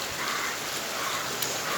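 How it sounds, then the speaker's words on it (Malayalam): Heavy rain pours steadily as a dense, even hiss that fills the whole clip, close and fairly loud, with no voices. "നല്ല മഴയാണ് കേട്ടോ."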